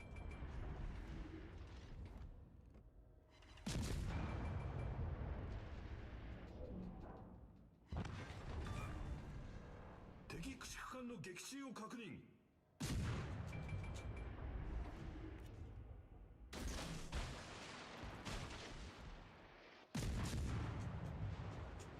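Heavy naval gunfire from warships in an online battleship game, booming salvos firing in repeated bursts with long rumbling tails, loud and close.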